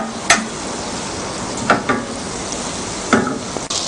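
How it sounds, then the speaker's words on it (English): Butter melts in a heated pan for a peanut candy, giving a steady soft sizzle with a few sharp utensil clicks against the pan. "Heat your pan and melt the butter."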